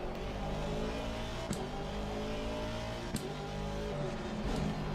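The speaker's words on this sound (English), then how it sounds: "I think this is definitely first gear in this car because of the engine." Race car engine held in first gear in Assetto Corsa Competizione at Spa, a steady droning whine with harmonic bands, interrupted by a couple of sharp clicks.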